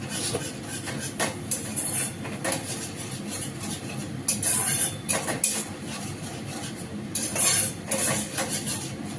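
A spoon scraping and clinking against a pan as yogurt is stirred into a spice mixture for kofta curry, with steady repeated metal scrapes and taps over a constant cooking hiss.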